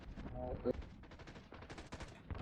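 Rapid gunfire from a Call of Duty multiplayer match, bursts of shots crackling close and loud beneath someone talking excitedly over them.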